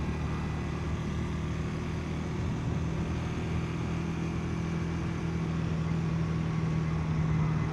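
A Honda Rebel motorcycle pulls steadily in third gear. Its engine drone is continuous and moderately loud, with a low, even hum throughout and no voices.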